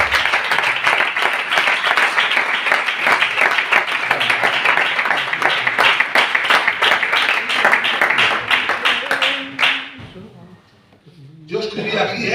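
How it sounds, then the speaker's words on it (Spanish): A church congregation in Gijón claps loudly and continuously for God during a service, a dense even wash of many hands that runs for about ten seconds before stopping abruptly, followed by faint room noise. "Pueden dar un fuerte aplauso para Dios"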